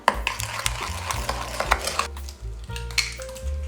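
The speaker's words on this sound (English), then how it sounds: "One at a time, add your eggs in the bowl and mix them thoroughly before adding the next." Eggs being mixed into banana bread batter in a bowl give repeated close scraping and tapping strokes with brief clinks of utensil against the bowl, steady and busy throughout, with no talking.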